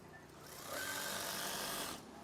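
A sewing machine stitching curtain swag fabric runs in one quiet continuous whir, rising for about a second and a half before easing off, with faint background noise around it.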